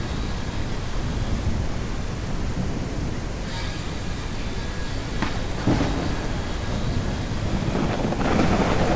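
A storm in the farming video game Ranch Simulator roars as a steady, dense rumble of wind and rain, with a few sharper crackling bursts near the middle and end.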